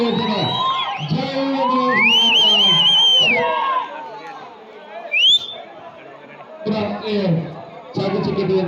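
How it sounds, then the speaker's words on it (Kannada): Audience at a prize event cheers and whoops loudly, with whistles and excited shouting rising in waves, then dropping before renewed bursts. "ಇಲ್ಲಿ ಜೋರಾದ ಚಪ್ಪಾಳೆ"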